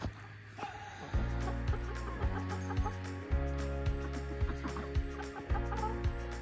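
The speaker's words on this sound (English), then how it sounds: "Hi, chickens." Several chickens cluck and murmur steadily nearby, with repeated low clucks in a loose rhythm and no talking.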